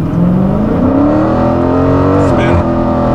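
A Dodge Challenger T/A 392 launching for a 0-60 run on a wet road, its engine droning loud and close with rising revs and wheelspin, a sustained roar that dips slightly near the end.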